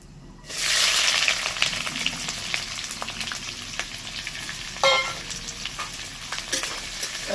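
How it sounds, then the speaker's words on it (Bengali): Three large chopped onions hitting a hot kadai and frying, a sudden loud sizzle that settles into a steady crackling hiss with scattered pops and stirring taps. "এদিকে পেঁয়াজ ভাজা চলছে"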